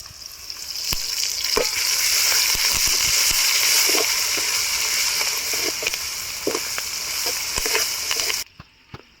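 Curry leaves drop into hot oil in a pan for a fish curry, giving a loud, continuous sizzle dotted with sharp crackles and pops that cuts off near the end.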